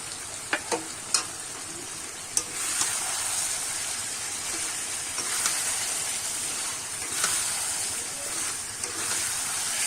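Marinated chicken pieces fry and are stirred in a pan for chicken kosha, giving a loud, continuous hissing sizzle with a few sharp scraping clicks early on.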